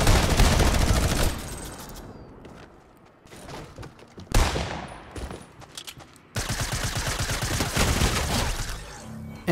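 Bursts of rapid gunfire aimed at a care package in Fortnite, loud volleys broken by short quiet gaps, with one sharp burst midway and a long sustained stretch of shooting at the end.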